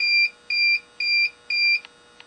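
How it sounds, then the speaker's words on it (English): A Tripp Lite uninterruptible power supply, modified to run from 36V DC and inverting to 120V AC, beeps four times in an even rhythm, about twice a second, while running on battery power. The beeps are clear and close, with no talking. "the beeping noise means it's running on battery power"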